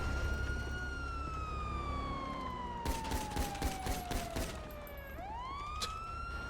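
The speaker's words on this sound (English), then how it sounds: "Shots fired. Shooting him out." Rapid bursts of gunfire from a police shootout in GTA V roleplay on NoPixel, loud and close, cutting across a wailing siren whose pitch slides down and then sweeps back up.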